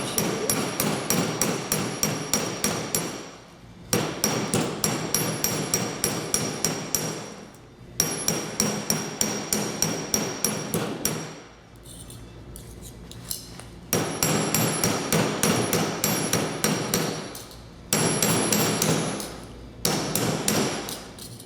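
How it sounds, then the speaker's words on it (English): A metal hammer striking a workpiece in a torch-working studio, held at the end of the handle: fast, even, ringing blows in long bursts, separated by short pauses, loud and close with no talking. "let the weight of the hammer do some of the work"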